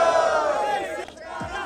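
A live rap battle audience roars and cheers in a loud, sustained wash of crowd noise, with shouts rising over the din before it briefly dips and swells again.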